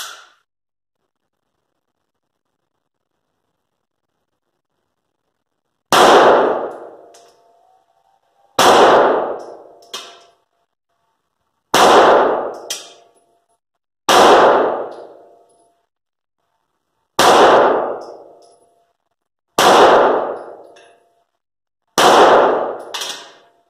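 Seven loud, sharp pistol shots from a SIG P320 X Full fitted with a Romeo 1 Pro sight, fired one at a time with a few seconds between each, every report ringing briefly at an outdoor range, with no talking.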